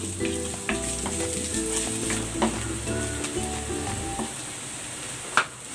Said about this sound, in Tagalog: Magigisa na ako ng bawang. Ilagay na rin natin tong sibuyas.